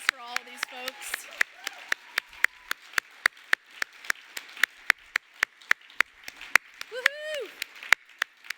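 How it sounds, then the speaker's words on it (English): Audience at an opening-day conference session claps in a steady, evenly spaced rhythm, close and crisp, with a voice underneath early on and a loud whoop near the end. "So let's give a round of applause for all of these folks."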